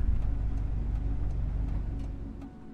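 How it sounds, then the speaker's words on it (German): A car breaking down in the horror video game Chordosis runs with a steady low engine rumble that sputters with faint ticking and sinks lower near the end, heard alone without talk. "Oh, scheiße, ich glaube, mein Auto wird gerade kaputt"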